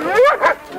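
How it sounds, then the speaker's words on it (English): A sled dog in a snowy dog yard gives two short, loud, close barks with a whining, yipping edge, heard alone. "Good dog."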